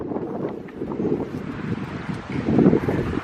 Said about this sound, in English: We know it's windy.